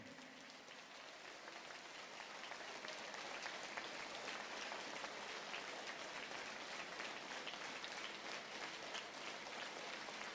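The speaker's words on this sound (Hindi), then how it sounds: "अभी तालियां कमजोर हो गई हैं।" Audience applause at a public talk by a military veteran, a dense, even wash of many clapping hands that holds steady and slightly swells throughout, with no voices over it.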